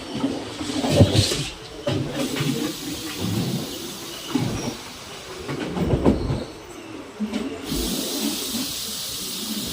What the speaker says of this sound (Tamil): வாஞ்சி மணியாச்சியில் தான் இப்போ ட்ரெயின் அரைவாகிட்டு இருக்குது ஸ்பீடாக தான் போய் அரைவாகுது